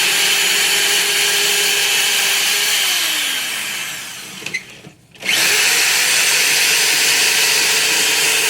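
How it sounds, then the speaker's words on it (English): A power drill bores holes in wood for a step stool, whining loud and steady close by. The motor pitch drops and the drill cuts out briefly, then spins back up. "I'll drill the other holes"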